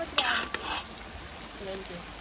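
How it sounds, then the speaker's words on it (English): Onions fry in a pan for an iguana curry, with a few sharp utensil clinks and scrapes early on and a quieter sizzle after, heard close. "Okay, guys, according to Alicia, has to get brown, has to fry it."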